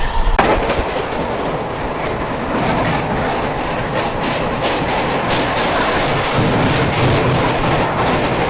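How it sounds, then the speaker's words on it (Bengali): The 12382 New Delhi to Howrah Poorva Express thunders past a moving Netaji Express, a loud, close rumble with rapid clickety-clack of wheels over rail joints throughout. "এবার আমাদের ট্রেন ক্রস করবে one two three eight two new Delhi two Howrah পূর্বা এক্সপ্রেস"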